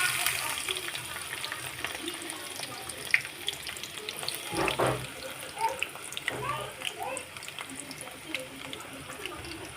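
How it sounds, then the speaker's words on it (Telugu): Sliced onions fry in hot oil in a pan, giving a soft, steady sizzle and crackle that runs throughout at low level, with a few louder stirring clatters midway. "ఆయిల్ వేడెక్కిన తర్వాత ఆనియన్స్ వేసుకున్నాము."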